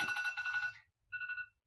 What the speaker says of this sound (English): Whoops, sorry, my phone.